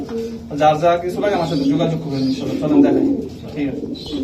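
Racing pigeons coo repeatedly nearby, soft throaty calls overlapping with a person talking over them.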